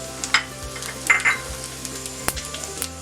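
Onion hits hot oil for coconut chutney, sizzling steadily up close while a spoon knocks and scrapes the pan several times in an uneven rhythm, with no voices.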